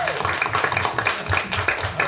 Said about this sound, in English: don't know if you really want to applaud like that